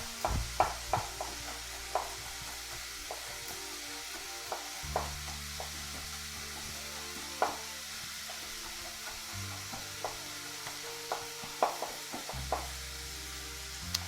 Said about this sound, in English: giving everything a nice caramelization on the stovetop just for a few minutes